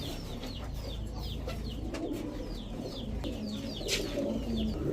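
A pair of racing pigeons coo softly in a loft, their repeated low calls mixed with chirps and clucks from other birds, with steady background murmur.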